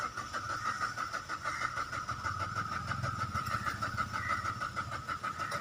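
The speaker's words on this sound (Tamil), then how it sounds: "இப்போ நான் வண்டியை ஸ்டார்ட் பண்ணுறேன்." Starting attempt on a Maruti Swift with a suspected fuel pump problem brings a rhythmic, pulsing engine churn that turns into a running engine, close and moderately loud with no speech.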